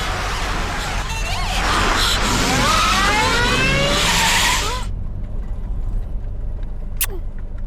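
Car chase scene in a dubbed South Indian action movie: loud engine roar with long, wavering tire screeches from skidding cars, cutting off abruptly to quieter background with a short squeal near the end.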